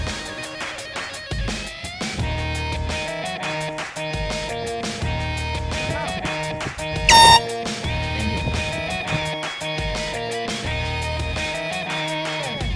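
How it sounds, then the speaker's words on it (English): Air horns blast in a long run of loud, repeated honks, with one sharper, louder burst standing out partway through. "I'm about to prank Ali with this air horn."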